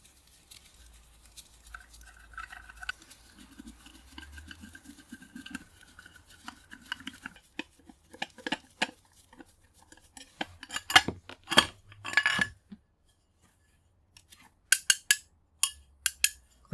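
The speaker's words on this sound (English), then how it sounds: "Okay, time to get these screws out." An electric motor's screws are worked loose and pulled out, giving quiet metallic clicks and scrapes that build into a cluster of sharp rattling clinks of small metal parts, close and without speech.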